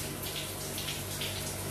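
Shower water pouring steadily over AirPods Pro 2 earbuds, a dense continuous hiss and splash that holds at the same level throughout.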